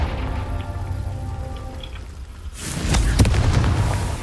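Confringo fire spell blast in the video game Hogwarts Legacy: a low hum gives way to a sudden loud burst with crackling, rumbling debris that lingers to the end.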